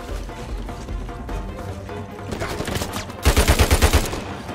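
Gunfire in the video game Uncharted 4, a rapid burst of about seven evenly spaced shots near the end, coming after a stretch of busier game sound.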